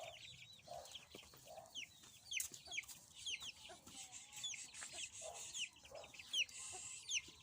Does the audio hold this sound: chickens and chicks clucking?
yes